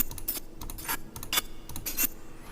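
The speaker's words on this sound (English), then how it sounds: "the broken glass sound effect." Broken glass sound effect used in designing a lightsaber soundfont: a rapid cluster of bright tinkling, clinking shards, several sharp hits scattered over a couple of seconds, close and fairly loud.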